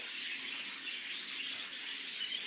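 A young male show bird, still a few weeks from full growth, calls steadily in a continuous high, dense chirping and twittering, fairly close and alone with no talk.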